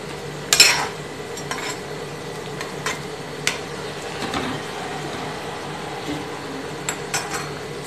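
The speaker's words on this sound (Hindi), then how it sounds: "हम इसे हाफ फ्राई करके ही उतार देंगे, फिर हम इसको दोबारा से फ्राई करेंगे" Moong dal pakodi fry in a kadhai while being turned, with sharp metal utensil clinks and scrapes standing out over a faint, steady frying hiss, and no talking.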